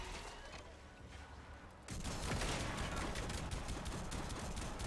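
Rapid gunfire in the shooter game Warframe: after a quieter stretch, a loud, dense, continuous volley of shots erupts and keeps going without a break.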